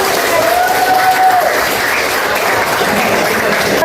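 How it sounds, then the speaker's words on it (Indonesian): A crowd claps and cheers for children at an event, loud and continuous applause mixed with voices throughout, with a brief whistle-like tone early on. "Oke, tepuk tangan untuk semuanya."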